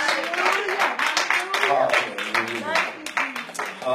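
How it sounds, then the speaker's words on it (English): A church congregation claps hands in praise during a worship service, with rhythmic claps woven through loud shouting and singing voices. "give God a hand clap of praise"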